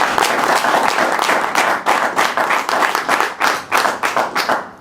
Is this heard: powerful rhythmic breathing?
no